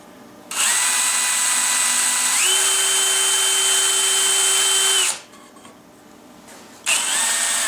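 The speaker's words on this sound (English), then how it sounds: "You can see now I've drilled out just exactly where I want it to be." A power drill bores barrel pin holes into a wooden gun stock, whining loud and close in a long run whose pitch shifts partway, then stops briefly before starting again.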